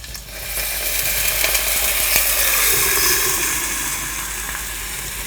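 Meat mandu dumplings frying in a pan just after water is added, a loud continuous sizzle and hiss with faint crackles, steady throughout with no talking.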